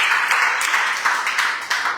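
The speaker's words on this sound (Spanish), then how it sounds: "Dale fuerte el aplauso a Dios." A church congregation gives strong applause during a sermon, a dense, continuous wash of clapping that stays loud and fairly close for the whole brief moment.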